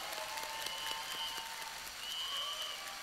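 Audience applause at a convention fills the room as a steady, dense patter of many hands clapping. It is heard at a moderate distance and holds evenly throughout.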